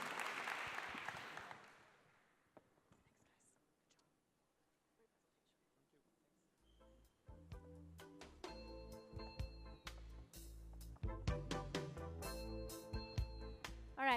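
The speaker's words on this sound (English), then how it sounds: "round of applause for our panelists" A conference audience applauds the panelists at the close of an AI-in-games panel, a burst of clapping that fades out within about two seconds, followed by a quiet gap and then loud music starting.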